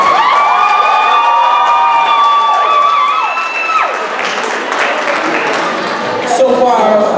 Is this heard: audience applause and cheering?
yes